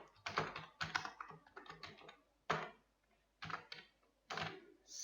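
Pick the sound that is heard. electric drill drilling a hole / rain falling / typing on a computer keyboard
typing on a computer keyboard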